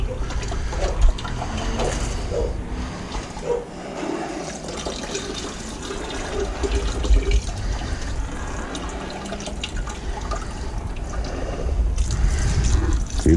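Water pours and splashes steadily onto silver powder mixed with diluted hydrochloric acid, a continuous close gushing and sloshing with wet churning that swells louder toward the end.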